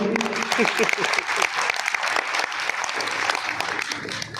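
Audience applause at a block-level school education event in Sardarshahar, a dense wash of many hands clapping that holds steady and loud throughout, with a few voices mixed faintly underneath.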